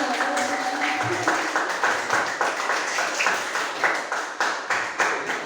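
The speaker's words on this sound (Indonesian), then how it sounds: "beri tepuk tangan untuk kelompok 2" Applause for a presenting group at a classroom teaching session, a crowd clapping in quick, uneven patter that holds steady and fairly loud, with a brief voice near the start.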